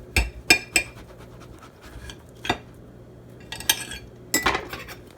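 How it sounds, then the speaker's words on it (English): A knife slices a zucchini lengthwise on a cutting board, giving a few sharp close clicks and scrapes spaced irregularly, with quiet gaps between them. "next thing we do is we cut the zucchini long ways"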